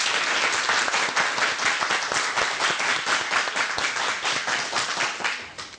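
Studio audience applause on a Belarusian television talk show about taxes, a dense, even wash of many hands clapping, steady and moderately loud with no talk over it.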